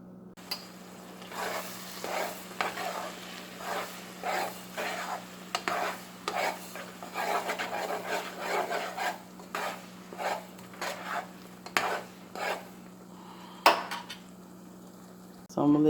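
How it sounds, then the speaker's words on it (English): Cajun-seasoned gomen fries in a pan while a utensil stirs it in repeated scraping strokes, a soft steady sizzle underneath and a few sharp clinks against the pan. "And I'm stirring it around."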